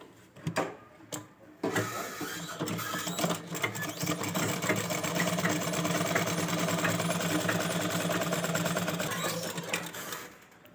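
A sewing machine stitches the lining of a fancy baby gown, starting with a few short bursts and then running in one continuous, steady whir at close range for about nine seconds before stopping.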